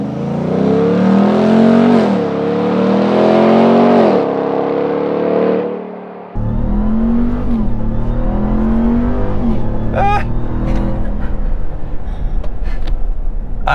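A 700-horsepower RAM TRX pickup truck launches from a standstill under launch control, its engine revving hard and climbing through loud rising pulls before it drops to a lower, steadier rumble with some whirring.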